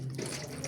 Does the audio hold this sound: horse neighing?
no